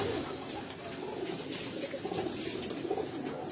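Sialkoti pearl pigeons coo repeatedly in low, soft murmurs from close by, their steady cooing layered over a constant background hiss from the rooftop loft.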